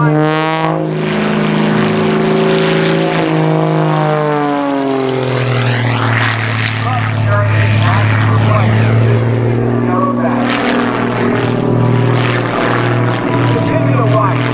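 A 300-horsepower propeller aircraft flies at the Serpentine Victoria centenary air show. Its loud, droning engine tone rises and falls in pitch as it sweeps past, with a commentator talking throughout.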